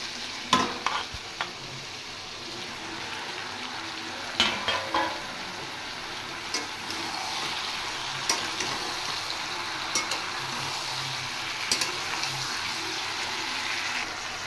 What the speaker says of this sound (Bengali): সবজিগুলো ফ্রাই হয়ে গেছে, আর বেশি ভাজবো না। এবার আমি ভেজে রাখা মাছগুলো দিয়ে দেব।